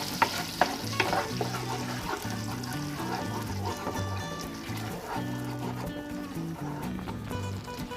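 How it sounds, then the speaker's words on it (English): Tomato sauce for buffalo chicken wings is stirred in a pan, a soft sizzle and stirring scrapes running steadily under background music. "And stir it."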